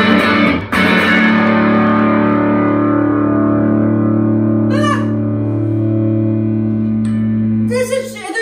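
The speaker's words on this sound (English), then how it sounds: "You know what it needs to sound less like a piano? With the distortion." Electric guitar played through a distortion effect: sustained, thick, overdriven chords ring loud and close for several seconds, with a couple of brief breaks and fresh attacks.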